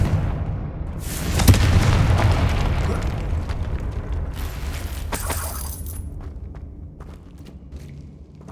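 A Confringo explosive spell goes off in Hogwarts Legacy: a loud, booming blast with a heavy low rumble, followed by crackling debris and several sharp pops that fade over the next few seconds.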